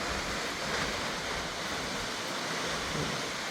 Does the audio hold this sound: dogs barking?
no